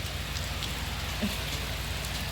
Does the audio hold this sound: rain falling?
yes